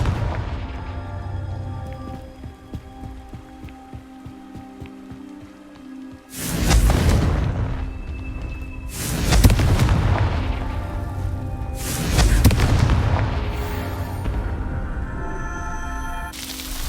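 Fire spell explosions in the Hogwarts Legacy video game, with three heavy booming blasts a few seconds apart, each with a long rumbling tail, over a quieter game soundscape with faint ticking before the first blast.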